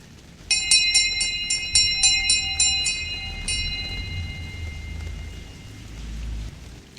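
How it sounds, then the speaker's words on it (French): A bright bell strikes in a quick run of about ten evenly spaced chimes, then rings once more and fades over a low rumbling backdrop. "La cloche a retenti"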